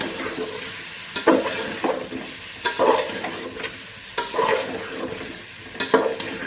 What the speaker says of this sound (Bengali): 3 চামচ নারকোল দিয়ে ভালো করে কষিয়ে নেব।